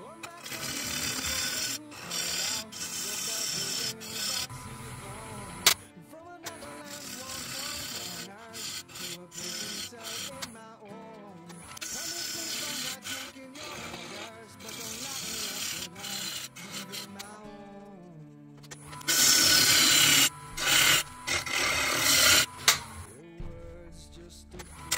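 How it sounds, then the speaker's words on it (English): Wooden bowl being hollowed on a Powermatic lathe, a gouge cutting in long scraping, rasping passes with brief gaps between them, loud and close throughout. "I'm going to hollow out the part without the wings"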